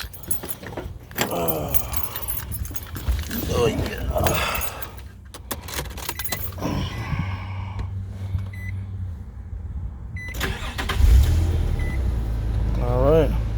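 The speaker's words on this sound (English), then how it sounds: "now we're going to turn the car on, make sure there's no leaks" Keys jangle as a 2001 Nissan Pathfinder is started, and the engine catches with a low rumble and settles into a steady idle, with a brief spoken remark along the way.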